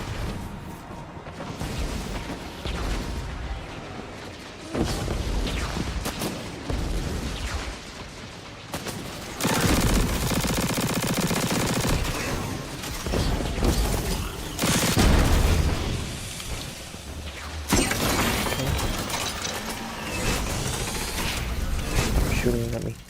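In Destiny 2, a video game, bursts of gunfire and booming blasts come in loud waves between quieter gaps, with a voice talking over the action.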